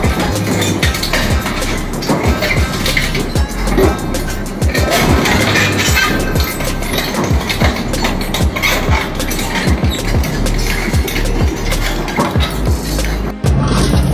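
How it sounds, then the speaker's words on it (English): An industrial shredder tears through a huge solid iron mold, a dense, continuous grinding crash with repeated metallic cracks and clanks, loud and close throughout with no pause. "If we put a huge solid iron mold into it, will it also be easily shredded?"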